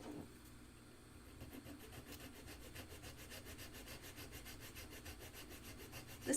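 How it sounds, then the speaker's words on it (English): A hand file rasps back and forth across a workpiece to close a small gap, giving a steady, even run of rhythmic scraping strokes that is fairly faint and heard alone. "I'm gonna do a little teeny weeny bit more filing and see if I can close up that gap."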